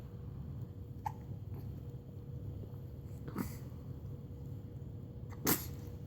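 A baby's hiccups, two or three short, faint bursts spaced a couple of seconds apart against a quiet room hum.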